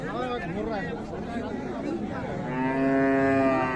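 Cattle mooing at a livestock market, the Raniganj haat in Ghoraghat, Dinajpur, where beef cattle are traded; long harmonic moos sound close and loud over a crowd's background chatter.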